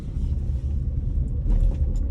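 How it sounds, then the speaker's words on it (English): A steady low rumble of road and engine noise fills the cabin of a car as it drives along, continuous and even throughout with no one talking. "in the car, there's a lot of the background noise of the car and driving"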